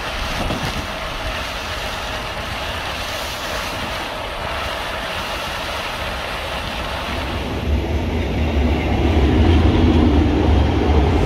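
Inside a stopping train running from Roosendaal to Antwerp, a steady loud rumble of wheels and carriage noise fills the space, with the low roar swelling slightly toward the end.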